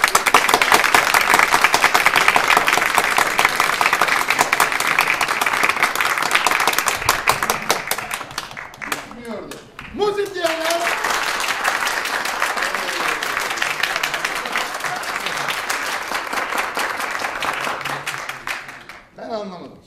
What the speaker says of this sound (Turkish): Hangi taraf çok alkışlıyor, tamam mı?